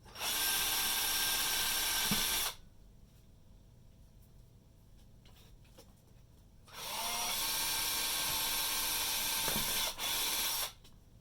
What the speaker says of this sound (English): just going to go ahead and pre-drill